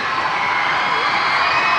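Loud, sustained roar of a high school basketball crowd standing and cheering in a gym, with whoops and shouting blending into a dense, continuous wall of noise.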